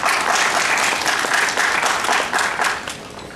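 Sustained audience applause fills the room at an Indian science talk, a dense, steady wash of many hands clapping throughout, with no voices standing out.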